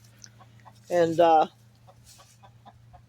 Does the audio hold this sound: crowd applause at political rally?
no